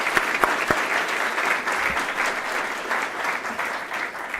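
A conference audience at NewSpace 2017 gives a short round of applause in honour of an absent colleague, a few sharp claps at first swelling into steady clapping.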